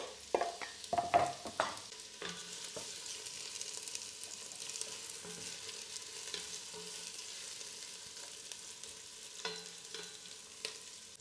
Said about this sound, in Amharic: ከዛ ትንሽ ዘይቱ ጋል ሲልልን እንደዚህ ሽንኩርት እናደርጋለን።